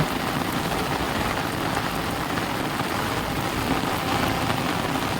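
Heavy rain pours down steadily in a dense, continuous hiss of drops hitting surfaces, loud and close throughout with no voices.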